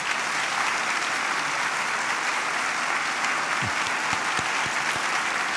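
A church congregation applauds at a Sunday worship service, welcoming families standing in the pews, dense sustained clapping from a large crowd filling the room with a few sharp nearby claps toward the end.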